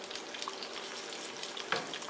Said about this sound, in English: After I add the chili peppers, I turn the heat back on so that they sizzle